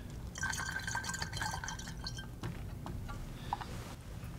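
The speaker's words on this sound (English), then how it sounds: "See how that splashed up?" Denatured alcohol cleaning solution poured into a bottle splashes briefly, a bright liquid burst followed by scattered drips and small glassy ticks, faint and close.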